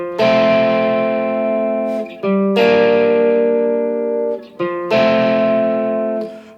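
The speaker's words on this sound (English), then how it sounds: "I've got a clean sound, but I'm using an overdrive pedal." Sustained electric guitar chords with a gritty tone from an overdrive pedal on a clean amp sound, three long ringing strums each fading before the next, loud and close.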